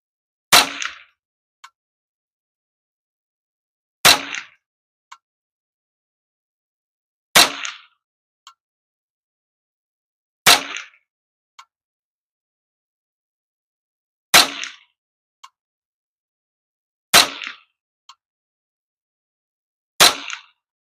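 A Ruger 10/22 rifle fires SK Rifle Match ammunition for a 10-shot group: seven sharp, loud reports ring out one at a time, spaced a few seconds apart, with short echoes and quiet between them.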